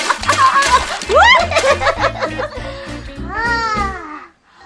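A water toy that plops and splashes in a children's show, giving several quick splashes under playful babbling voices and laughter.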